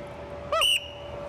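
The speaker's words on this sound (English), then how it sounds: "when I blow the whistle" A single sharp referee-style whistle blast starts a game, loud and close, lasting about a quarter second against a quiet background.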